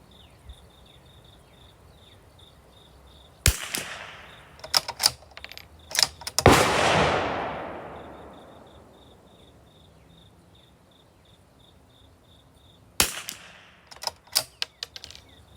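A .22 rifle fired with Eley Match ammunition on an outdoor range, single sharp reports spaced apart, one followed by a long decaying echo, over a steady background of insects chirping.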